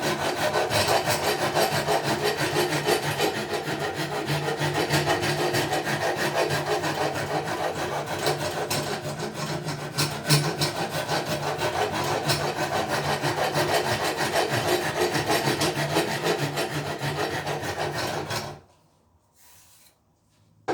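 Close, loud hand rasping along a wooden cigar box guitar neck, continuous back-and-forth scraping strokes that stop abruptly near the end, leaving near silence.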